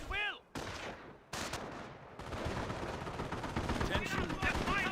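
An MG42 machine gun fires in a Company of Heroes battle, producing dense, sustained bursts amid louder blasts of battle noise, with a voice briefly audible.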